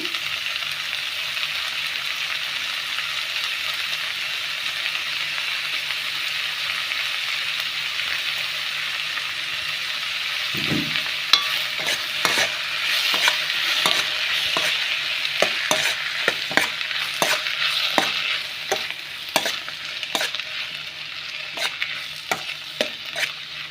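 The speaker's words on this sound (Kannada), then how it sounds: "ಈ ರೀತಿ ಮಿಕ್ಸ್ ಮಾಡಿ ಸೊ ಚೆನ್ನಾಗಿ ಇದು ಫ್ರೈ ಆಗಬೇಕು" Chopped tomatoes frying in a pan for tomato gojju, a steady bright sizzle that turns into a rapid run of scraping and clacking spatula strokes partway through.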